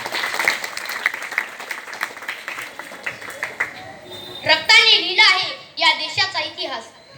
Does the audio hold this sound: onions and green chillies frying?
no